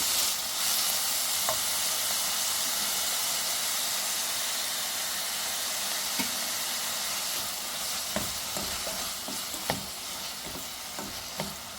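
Ingredients for a pasta dish sauté in a pan with a loud, continuous sizzle and hiss, and occasional scraping taps as the food is stirred.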